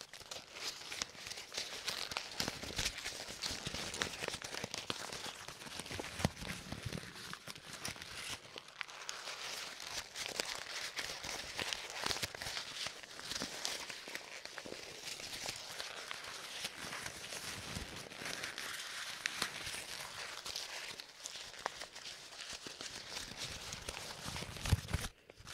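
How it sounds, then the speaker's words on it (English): Dense, continuous paper crumpling, crinkling and rustling, close and steady throughout with brief tearing-like bursts, in an ASMR setting; no speech. "These are the best paper sounds you will ever hear"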